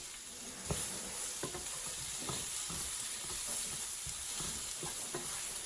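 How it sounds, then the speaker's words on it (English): Sausage fries in a pan with a steady, dense sizzle throughout, while occasional scrapes and clicks of stirring sound close by during keto breakfast prep. "we're frying up our sausage"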